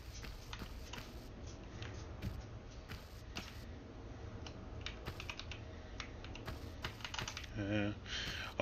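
Rapid, repeated tapping on a computer keyboard, keys hammered in quick irregular bursts at close range, continuing steadily throughout.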